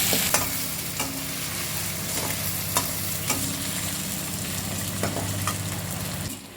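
Onions and garlic sauté in a pan for a Chettinad garlic kuzhambu, giving a steady close sizzle broken by occasional soft stirring scrapes and taps.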